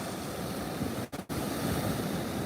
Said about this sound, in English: they just roll on through and smash up against our wave guards here at the aquarium